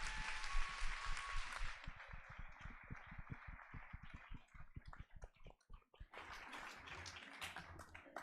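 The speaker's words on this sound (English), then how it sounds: "I'd just like to finish with another huge round of applause for our brilliant filmmakers." Audience applause for filmmakers at a girls' leadership summit, a dense burst of clapping that thins into scattered claps before swelling again near the end, steady and fairly close.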